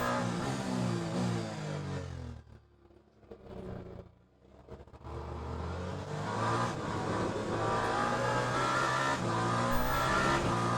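In the Le Mans Ultimate sim racing game, a race car on cold tires brakes hard, then its engine drops away briefly and roars back up through the gears, loud and continuous.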